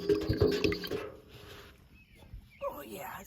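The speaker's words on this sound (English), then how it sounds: "Let's give this a little stir." Homemade liquid fertilizer being stirred, a few sloshing, dripping splashes up close at the start, then quieter liquid movement, with speech present.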